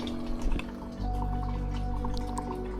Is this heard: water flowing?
yes